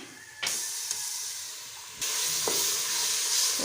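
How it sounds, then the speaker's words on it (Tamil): Onions with ginger garlic paste sizzle and hiss steadily in a hot pan, close and loud, with a couple of sharp stirring scrapes and a sudden surge as the frying intensifies. "முப்பது செகண்டு போல் வதக்கிக்கோங்க"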